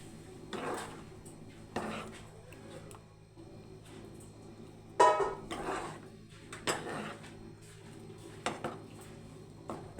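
Spoon clinking and scraping against a bowl or pot while fruit custard is mixed with cardamom powder and fruit, a few separate knocks spread out over quiet gaps, close and fairly soft.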